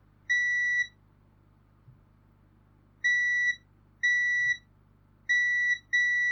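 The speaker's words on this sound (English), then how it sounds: "let's check for shorts with multimeter on continuity" A multimeter on continuity mode beeps while probing a faulty webcam board for shorts, five clean electronic tones of about half a second each, spaced irregularly over a quiet background with faint clicks from probe contact.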